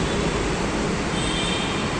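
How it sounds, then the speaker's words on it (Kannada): A metro train arrives at the platform as a loud, steady broadband roar that holds constant without a break. "ಗೈಸ್, ಮೆಟ್ರೋ ಬಂದ್ಬಿಡ್ತು, ಹೋಗಬೇಕು"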